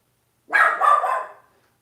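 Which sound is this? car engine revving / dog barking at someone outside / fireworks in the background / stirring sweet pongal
dog barking at someone outside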